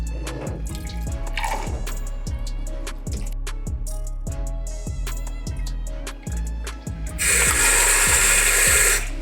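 Water drains from the tank of a broken steam mop in steady, rhythmic glugs, close and fairly loud, then gives way to a louder continuous rush of running water for the last couple of seconds, with no talking.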